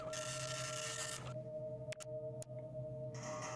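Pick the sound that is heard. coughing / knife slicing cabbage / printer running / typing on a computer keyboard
printer running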